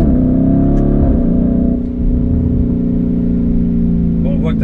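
A Lamborghini Urus pulls away and accelerates with a contest winner at the wheel, its engine a loud, steady, close drone throughout, with voices talking over it.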